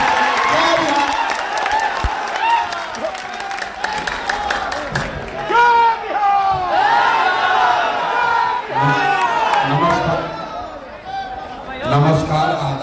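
A crowd at a Jan Suraaj political rally claps and cheers, bursts of applause mixed with loud chatter and shouting voices, while people talk over the noise throughout.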